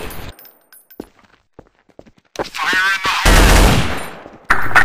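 Bursts of machine gun fire in a first-person shooter: scattered single shots and clicks, then a long, loud, sustained volley close by that cuts off and briefly starts again, with no talking.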